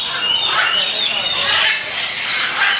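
South American parrots squawk at a large Bangkok market, loud shrill calls layered over a dense, constant crowd din.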